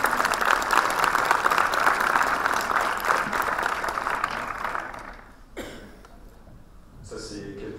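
An audience at an entrepreneurs' event applauds a presenter, loud sustained clapping that fades out after about five seconds, followed by quiet room noise and a brief voice.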